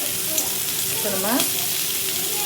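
Coconut oil heating on a tawa gives a steady, broadband hiss and faint crackle, with a brief bright scrape partway through and no talk.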